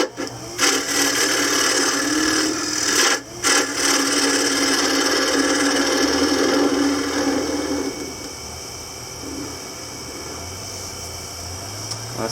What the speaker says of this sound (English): using a wood lathe, doing it freehand, knowing that you're making a custom piece.